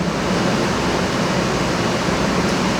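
Broadband rushing roar of an industrial fan pours steadily from its open, uncollared inlet into the installation room, constant and loud with no variation or voices.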